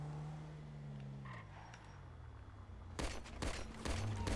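Weapon fire in GTA V: after a quiet stretch of low engine-like hum, a rapid cluster of sharp, loud shots breaks out near the end, with a few more bursts following close together.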